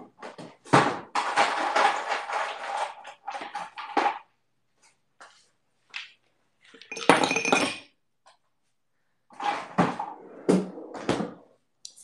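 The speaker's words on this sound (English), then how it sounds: "we're going to use our mixing glass. We're going to fill it with some ice." Ice cubes clink and rattle into a cocktail mixing glass while a Negroni is made, with a long burst of clattering, a brief crisp rattle midway, then more clinking near the end, close and fairly loud.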